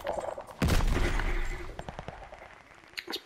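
Gunfire in Call of Duty Vanguard, a sudden burst of rapid shots followed by scattered single cracks and impacts, loud and close, with a couple of sharp shots near the end.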